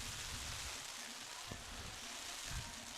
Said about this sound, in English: as the rain continues to pour down here